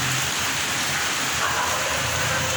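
Steady rain pours down across a city, a dense continuous hiss of falling water with no pauses or other sounds breaking through.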